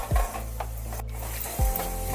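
Tarka masala spices fry in a pan for a dhaba-style Bengali egg tarka, a soft steady sizzle broken by two scraping strokes of a spoon stirring, close and alone.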